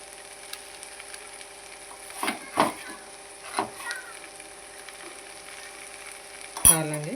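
Brinjal fry with peanut and sesame powder being stirred in a pan, giving a soft steady sizzle with a few distinct scraping strokes of a spoon and a sharper clatter near the end.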